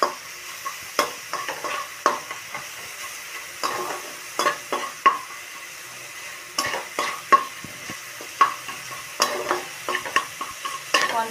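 Folui fish frying in oil over a medium flame while being stirred: a steady close sizzle broken by repeated sharp scraping clicks from the spatula, with no talking.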